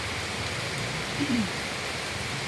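Steady rain during the rainy season makes a dense, even hiss throughout, with a faint brief murmur partway through.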